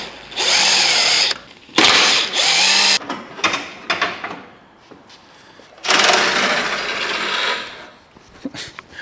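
A power screwdriver working on a BMW E36 during coolant and radiator removal whirs in several loud bursts, some long and some short, separated by pauses with quiet handling noises.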